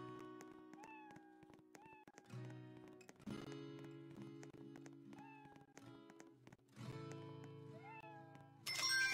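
Cartoonish meows from a Roblox cat-hunt game sound repeatedly in short, clear bursts, interleaved with chimes and game effects, with no talking.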